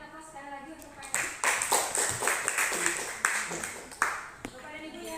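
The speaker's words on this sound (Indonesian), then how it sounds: "Kita berikan aplaus sekali lagi untuk Pak." An audience applauds Pak Herianto, a prospective guru penggerak, at a school presentation: a short spell of scattered, moderately loud hand claps that swells and then trails off, with speech over it.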